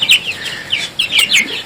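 Faverolles hens cluck and chirp in a short run of quick, bright calls close to the listener, several sharp notes in a row with no one speaking.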